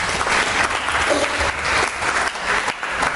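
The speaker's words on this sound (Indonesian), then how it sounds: "Beri tepuk tangan bagi Tuhan" A church congregation claps steadily and loudly, a continuous round of applause with no pauses.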